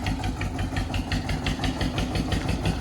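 A tractor engine runs steadily at a rural work site in Chhattisgarh, with a loud, even, throbbing chug and a rapid rhythmic knock that carries on without a break. No one speaks over it.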